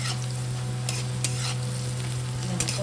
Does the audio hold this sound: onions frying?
yes